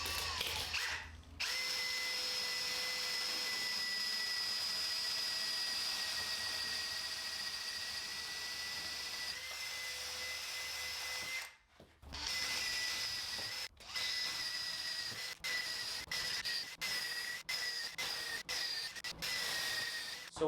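A power drill runs a 7/8-inch spade bit through holes for an archery backstop build, whining steadily and loudly for long stretches, with a brief stop near the middle and several short on-off bursts toward the end.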